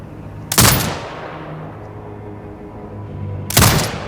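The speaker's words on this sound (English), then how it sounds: "Exit binocular mode and command the turret to fire." Two heavy turret gunfire bursts in Sniper Ghost Warrior Contracts 2, one near the start and one near the end, each loud and booming with a fading tail over a low hum of game ambience.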